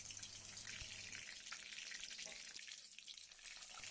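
Whole dried red chilies, bay leaves and white cumin tempering in hot mustard oil for a cauliflower, potato and prawn curry, a soft continuous crackling sizzle, faint and close, no voices.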